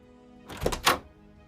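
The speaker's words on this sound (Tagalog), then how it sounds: "Biglang bumukas ang pintuan ng kwarto namin." A bedroom door opens suddenly as a sound effect, two quick close thuds about a quarter second apart against a quiet background.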